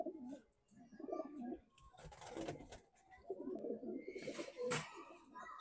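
Racing pigeons coo in soft, repeated rolling phrases nearby, with scattered rustles and light thumps between the calls, all fairly quiet.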